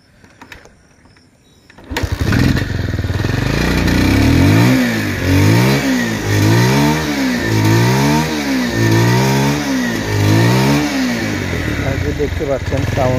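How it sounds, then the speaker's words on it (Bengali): A Bajaj Pulsar 150cc motorcycle is kick-started and catches at once, then idles loudly up close and is revved in a rhythmic series of rising and falling throttle blips. "এখন বর্তমানে কিকে মারতেছি, এক কিকে স্টার্ট নেওয়ার কথা, এক কিকে স্টার্ট নিয়ে নিয়েছে।"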